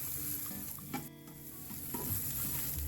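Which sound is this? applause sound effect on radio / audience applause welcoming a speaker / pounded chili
pounded chili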